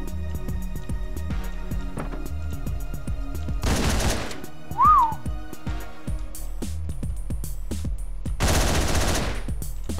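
Rapid bursts of gunfire from the Hotline Miami video game rattle over a pulsing electronic soundtrack, with two loud dense volleys standing out amid steady shots.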